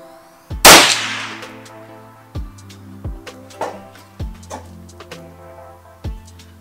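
Shots from a .22 Long Rifle firing CCI ammunition: one loud sharp crack followed by a string of quieter reports and impacts at uneven intervals, each ending in a short ringing tail.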